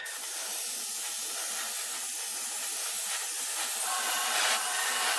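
An airbrush sprays paint onto a Ju 87B Stuka model kit with a steady, close, continuous hiss that swells slightly toward the end, with no talk.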